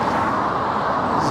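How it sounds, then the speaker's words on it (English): Road traffic rumbles steadily nearby in Sheffield, a loud continuous wash of passing vehicles with no clear individual pass-by in this short stretch. "Sorry about the noise and the traffic."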